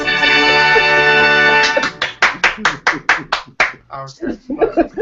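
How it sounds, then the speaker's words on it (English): A few sharp claps ring out after a stretch of steady voice, spaced unevenly and fairly close, with faint talk around them. "Am I the only one clapping here?"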